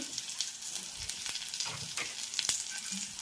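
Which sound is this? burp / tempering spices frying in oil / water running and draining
tempering spices frying in oil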